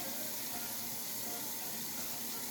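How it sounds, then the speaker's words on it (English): Warm water pours from a tap into a pan in a steady, soft splashing hiss that runs unbroken and fairly quiet throughout. "all you do is put water, warm water in it"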